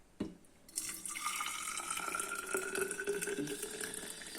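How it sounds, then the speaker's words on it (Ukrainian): Boiling water poured from a kettle into a thermos for a breakfast brew, a steady close gurgling stream with rising pitch as the vessel fills, no talk. "Залили кипятком, окропом, то есть."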